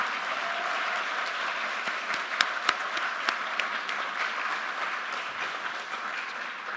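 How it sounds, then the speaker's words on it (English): An audience at a school board candidates night applauds the candidates, steady moderate clapping from a room full of people with a few sharper individual claps standing out near the middle. "Let's give a big round of applause for all the candidates coming out tonight."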